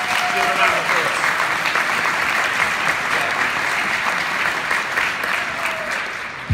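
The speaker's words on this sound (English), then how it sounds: "Give a round of applause." A large audience at an educators' conference opening program breaks into loud, sustained applause, a dense wash of clapping that holds at an even level throughout.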